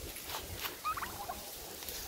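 Turkeys gobble on a farm, a few quick burbling calls rising out of steady outdoor background noise, fairly close but not loud.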